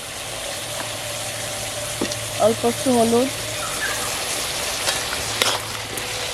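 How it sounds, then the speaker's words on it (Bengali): Green jackfruit pieces with salt and turmeric fry in a pan with a steady, moderate sizzle that runs throughout, while a voice speaks briefly partway through. "ইঁচড়টা ভাজা হোক"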